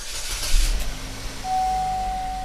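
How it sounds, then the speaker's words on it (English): A car engine cranks and catches with a short burst of starter noise, then settles into a smooth, steady idle with a faint high whine, close by and without talk. "So I'm going to go ahead and start the car up right now,"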